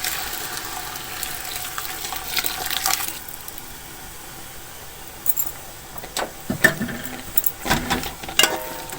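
Khoya being stirred into carrot halwa frying in a pan, giving a soft steady sizzle with scraping and clinking stirring strokes that grow sharper and more frequent toward the end.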